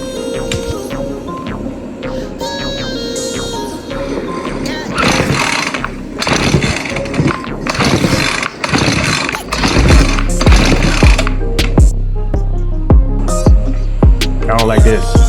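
A Ryobi two-stroke Expand-It string trimmer is started after priming and choking. Several loud, choppy pull-start bursts come first, then the small engine catches and runs with a rough, throbbing idle close by.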